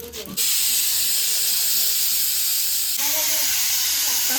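Pressure cooker whistle releasing a loud, steady hiss of steam while duck meat boils inside, the forceful jet beginning abruptly and continuing with only a small dip partway through.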